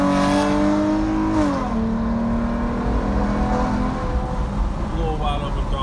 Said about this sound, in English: give y'all a little wide open throttle here